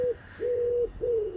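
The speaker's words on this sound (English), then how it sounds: "Here we have a fat pigeon." A fat pigeon in South Yorkshire coos close by, three low, drawn-out hooting notes in a steady rhythm, clear and alone over faint background hum.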